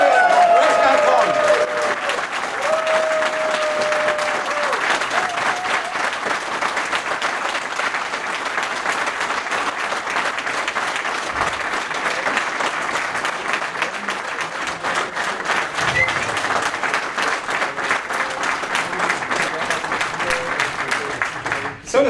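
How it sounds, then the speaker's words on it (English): Audience at a Grayskull Con convention panel breaks into sustained, loud applause and cheering that fills the room, with a few voices calling out over the clapping. "wir brauchen jetzt nochmal einen ganz festen Applaus mit Jubel, Geschrei und Aufstehen"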